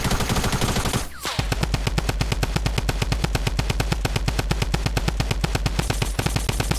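Rapid, steady automatic gunfire from a Fortnite duo squads match, a dense machine-gun rattle that briefly pauses near the start and then runs on loud and unbroken.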